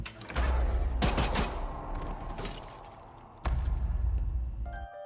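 Gunfire in a dramatic action film scene: sharp bursts of shots around the one-second mark and again near three and a half seconds, loud and close, with rumbling echoes between them.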